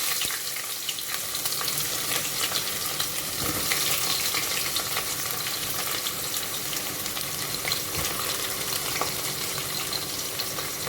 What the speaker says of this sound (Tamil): இப்போ வெங்காயத்தை உள்ளே போட்டு நல்லா வதக்கிடுங்க.